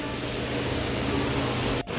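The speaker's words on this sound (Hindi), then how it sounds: "बारिश लग चुकी है झमाझम वाली।" Heavy monsoon rain in a hill-town hospital parking area, a constant close broadband hiss of downpour drumming on surfaces, with a brief dip near the end.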